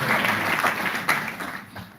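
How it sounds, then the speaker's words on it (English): Audience applause for a chief technical officer walking on stage at a technology expo, a dense spread of clapping through the whole stretch that thins slightly toward the end. "ladies and gentlemen, please give him a round of applause."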